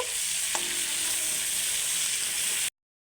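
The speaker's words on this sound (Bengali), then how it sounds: "চিংড়ি মাছের মাথা বাড়াটা দিয়ে দেব দিয়ে একটু ভালো করে নেড়ে নেব" Ground prawn head paste fries with ginger-garlic paste in a pan for a raw jackfruit and prawn dish, a steady close sizzle with a single stirring clink, cut off abruptly.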